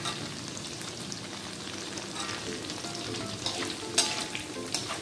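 Tofu frying in hot oil in a pan, giving a continuous crackling sizzle with a few sharper pops and stirring scrapes toward the end, close up and with no talking.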